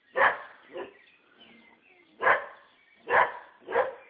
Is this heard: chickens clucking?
no